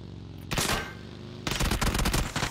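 Gunfire in PUBG: a short loud burst, a brief pause, then a longer rapid volley of shots close by, heard with no talking over it.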